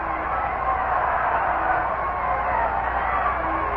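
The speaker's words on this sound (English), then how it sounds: "the crowd is trying to get something started here, as you can hear" A steady, distant roar of a baseball stadium crowd at a Braves at Mets doubleheader, a broad sustained murmur of cheering with no distinct peaks.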